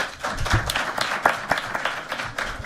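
Audience applause at a legal conference on activism and access to justice, steady mixed clapping from a moderate crowd, fairly close, with faint voices underneath.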